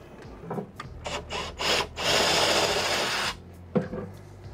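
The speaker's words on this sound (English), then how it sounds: "I'm using this multi-variable type drill bit, and I'm going to see if I can't get it in a little bit more exact" Step drill bit enlarging a bolt hole for pinball cabinet legs, short grinding bursts in quick succession, then a longer sustained cut of about a second and a half, and a final brief bite; close up, no talking.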